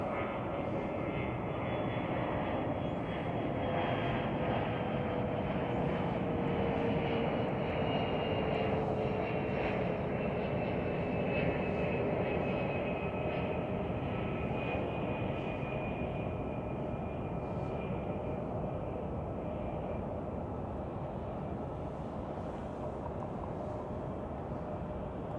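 A Delta Boeing 757-200 airliner arriving at Chicago O'Hare from Atlanta, a loud sustained engine roar with a slowly shifting whine that holds steady throughout.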